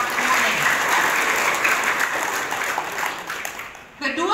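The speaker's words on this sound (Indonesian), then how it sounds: "Tepuk tangan di Kabupaten Bone." Dense applause from an audience at a gathering in Kabupaten Bone, Indonesia, where gas-powered water pumps are being handed out. It keeps a steady roar for about four seconds, then thins out and a voice cuts in at the end.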